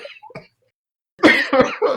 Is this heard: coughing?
yes